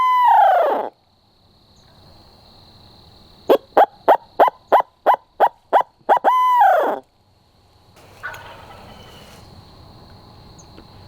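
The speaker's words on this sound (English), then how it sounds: "It's like when that closer turkey fired up" A wild turkey gobbles loudly and nearby in an outdoor Oklahoma hunting setting, a rapid rattling burst at the start, then a sharp series of evenly spaced clucks leading into another full gobble, followed by quiet background with a faint distant call.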